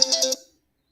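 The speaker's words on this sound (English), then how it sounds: "I wish I could cut this phone off. Someone keeps calling me." Mobile phone ringtone for an incoming call sounds in a talk setting: a brief, bright melodic chirp of a few quick notes that cuts off after under half a second, followed by silence.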